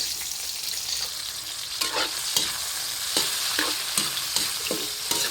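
Onion and garlic frying in a pan, a steady close sizzle broken by the regular scrape and knock of stirring.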